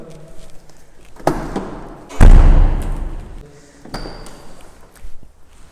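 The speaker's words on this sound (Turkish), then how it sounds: "Bu arka kapı biraz kötü kapanıyor." A rear door of a Tofaş Şahin that closes badly is slammed nearby: a smaller knock first, then a heavy, loud thud with a lingering rattling tail, and later a faint metallic ping.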